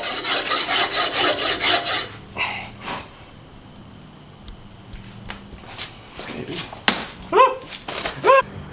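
A hand file rasps in quick, rhythmic strokes against the back of a brake caliper on a 2019 Ram 1500 truck, a burst of harsh scraping followed by scattered knocks and rustling, with a voice and dog-like yelps in the background.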